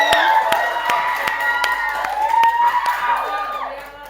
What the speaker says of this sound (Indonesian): Oke, beri tepuk tangan buat Resti.